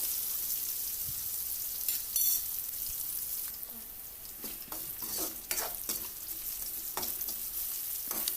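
Onions and garlic sautéing in a pan for a karunai kizhangu (elephant foot yam) kuzhambu, a steady close sizzle broken by intermittent spoon scrapes and stirring clatter, with no talking.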